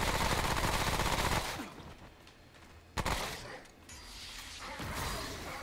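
Gunfire in the video game Remnant: From the Ashes: a dense burst of loud shots at the start gives way to quieter ambience, then one sharp single report cracks out midway before the rumbling soundscape swells again.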